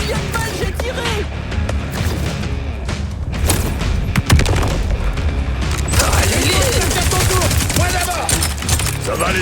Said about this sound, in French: Je me souviens même pas combien de balles j'ai tiré!